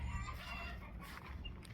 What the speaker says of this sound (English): Just look at the chickens. They're all gathered under this mango tree.